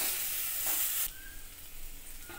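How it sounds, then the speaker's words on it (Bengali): Vegetables sauté in a pan with a splash of water for a vegetarian potato and yardlong bean curry, starting with a loud, close hiss that drops after a second to a softer, steady sizzle. "একটু ভালো করে কষে নিই"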